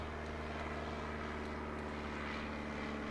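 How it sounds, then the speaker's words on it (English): A World War I Rumpler C5 biplane drones steadily overhead at an air show, its engine a constant low hum with a buzzing tone, unbroken for the whole stretch and fairly distant. "And overhead, the beautiful Rumpler"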